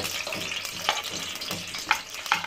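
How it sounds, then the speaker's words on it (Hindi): Onion frying in a pan over a low flame, a steady close sizzle broken by scraping stirs and a few sharper clicks of the spoon against the pan. "ये हमने डाल दिया प्याज तो अच्छी तरह से ब्राउन कर लेंगे"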